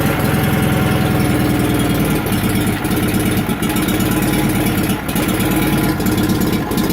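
A Sears Suburban lawn tractor engine idles steadily and loudly up close, a continuous low chugging rumble with an even beat, slightly rough from sitting cold, with no one talking.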